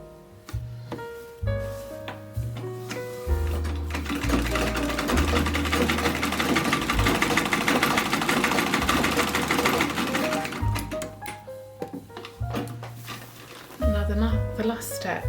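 A treadle sewing machine stitches back over a seam on a tote bag, its rapid mechanical clatter running steadily for several seconds between quieter stretches with a steady tonal hum in the background.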